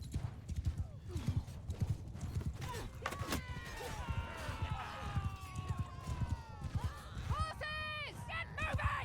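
Hooves of horses galloping across a battlefield in Mount and Blade II: Bannerlord pound in a rapid clip-clop, broken by sharp whinnies and neighs, amid busy combat noise and a voice.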